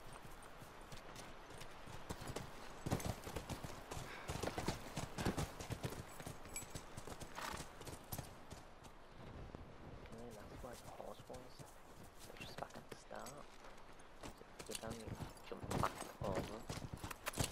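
Rhythmic clip-clop of horse hooves trotting steadily while riding in the video game The Last of Us Remastered, mixed with game ambience and a voice speaking over it.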